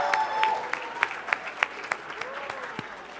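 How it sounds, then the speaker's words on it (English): Light, sparse audience applause closes a student assembly conference session, a handful of distinct claps ringing out at a moderate distance at a loose, uneven rhythm in a quiet room. "Let's do a round of applause for everybody present in this room who made it through"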